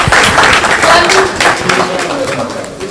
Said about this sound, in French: On applaudit s'il vous plaît pour encourager les artistes.